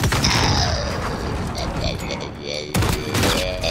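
Gunfire and mechanical weapon noise from the Call of Duty Modern Warfare video game, a dense continuous din with a sharp louder burst near the end, mixed under a voice talking.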